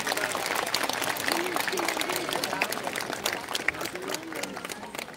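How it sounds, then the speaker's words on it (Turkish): An audience applauds after a speech at a traditional Circassian culture festival, sustained crowd clapping with faint voices murmuring underneath. "Bir alkış daha göndermenizi rica ediyoruz"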